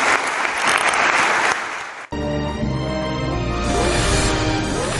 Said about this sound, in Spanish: terminemos con un aplauso para los señores de casa